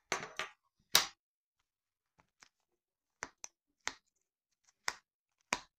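Scissors cutting open a cardboard parcel holding a bead-embroidery canvas, heard as a series of sharp, close snips and clicks spaced irregularly, with quiet gaps between cuts.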